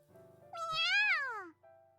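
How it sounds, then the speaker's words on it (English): A kitten meows once in a video game, a clear rising and falling cry of about a second over a soft, steady game music bed. "My gaze shifts in the direction of the meow."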